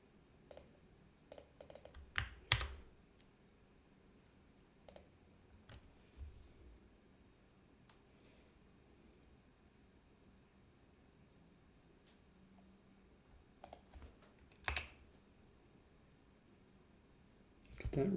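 A password is typed on a computer keyboard in a quiet room, a few scattered soft key clicks and taps with long near-silent gaps between them.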